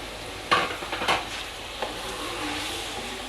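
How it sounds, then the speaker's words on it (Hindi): Yogurt goes into chicken kachnar simmering over low heat, with a few distinct spoon scrapes and stirs against the pan over a soft, steady sizzle. "अब हम इसमें दही डालने लगे हैं।"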